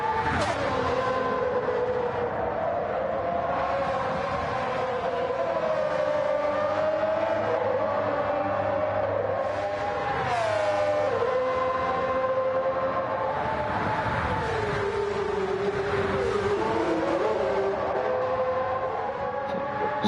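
High-revving 3.5 litre racing engines, including a Ferrari, scream past at the Red Bull Ring, their pitch climbing and dropping through gear changes in a steady, loud overlapping drone with no talk.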